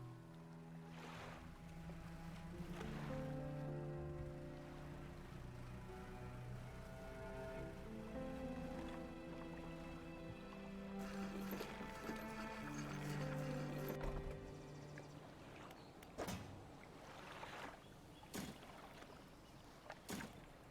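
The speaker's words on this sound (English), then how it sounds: "I heard the boat. There was a boat. It was making lots of noise." Boat noise in the fishing video game Dredge, a low steady engine rumble and lapping water that runs throughout, quiet and continuous, with a few sharper knocks toward the end.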